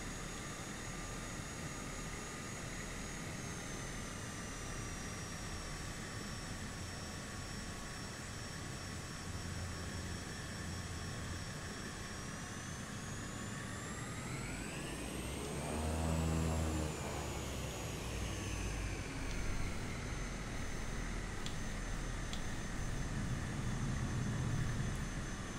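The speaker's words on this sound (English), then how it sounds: "Oh, there's the plane landing, look." Simulated airliner landing on a UK coastal flight from the Isle of Man to Liverpool in Microsoft Flight Simulator, a steady engine whine and drone with tones that swoop and shift midway, then rumble as the plane rolls out, with no talk.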